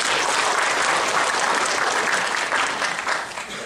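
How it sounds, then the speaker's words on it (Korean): An audience at a national activists' conference gives a speaker a continuous round of applause. The dense clapping holds steady, then tapers off toward the end. "다시 한번 박수 보내주시죠"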